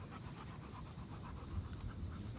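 Bruno, a big, heavy two-year-old dog, pants close by in quick, steady, rhythmic breaths, with no one speaking.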